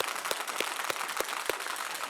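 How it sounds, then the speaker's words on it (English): Audience applause at a morning non-profit finance talk as the first speaker is introduced: a dense, steady patter of many hands clapping throughout, with a few sharper individual claps standing out, moderately loud and without talk. "it's not too early to clap"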